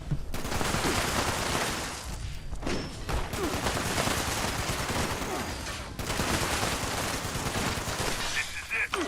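Constant, dense gunfire from Fallout 76 rattles on through a firefight, with rapid automatic bursts and thuds that pause only briefly. Voices are faint underneath.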